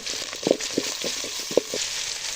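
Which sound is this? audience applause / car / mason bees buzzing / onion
onion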